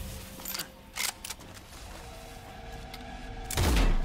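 Weapon reload in the video game Nightingale, a few short mechanical clicks and clacks early on, then a heavier burst near the end, with game ambience underneath and no talk.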